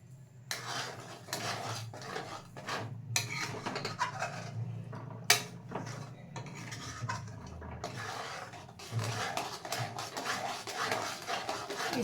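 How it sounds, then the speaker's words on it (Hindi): Paneer malai mixture being stirred in a pan for laddoos, with cardamom powder just added: soft, steady scraping and rubbing of a spoon against the pan bottom, with a few sharper metallic clinks, close and without talk. "इसे हम चलाते रहेंगे।"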